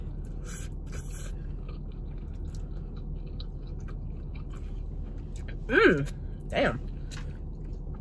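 Someone eating fried cheese rangoons from a Chinese takeout meal, soft chewing and a couple of crunchy bites up close, with a brief spoken word.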